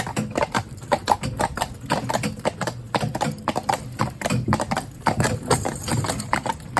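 Steady clip-clop of Gelderlander horse hooves walking at a slow, even rhythm, close and clear throughout with faint rattles and a brief low background hum.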